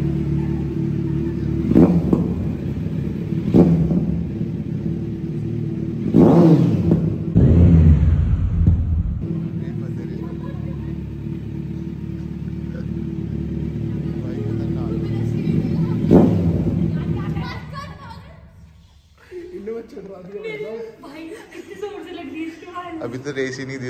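A Kawasaki Z900 superbike engine rumbles and revs nearby with repeated throttle blips, its roar echoing, then fades toward the end, while people talk over it.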